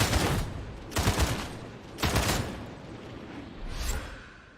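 Bolter gunfire from Warhammer 40,000: Darktide on Damnation difficulty roars in four loud, close bursts of rapid fire, each about half a second long and separated by short pauses.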